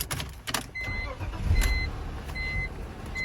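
A BMW E46 car engine cold-starts, with a brief cranking burst followed by the engine catching and settling into a steady, fairly close idle, and a few faint clicks and beeps on top.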